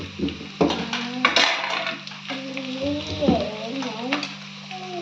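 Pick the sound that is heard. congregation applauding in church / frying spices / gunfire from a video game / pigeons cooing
frying spices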